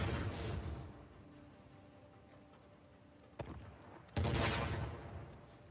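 Loud blasts and sustained gunfire from an enemy firing an RPG in Uncharted: The Lost Legacy, with a heavy boom bursting in near the end over a rumbling battle.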